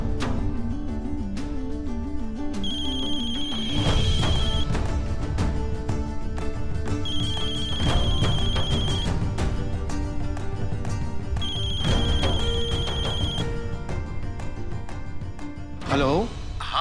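A phone ringtone plays as a call is attempted in a Hindi TV drama, a repeating electronic melody in several bursts over steady background music, with a brief voice near the end.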